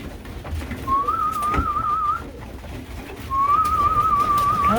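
Racing pigeons at their home loft make two drawn-out, wavering cooing calls, each lasting over a second with a pause between, set against a steady low background rumble.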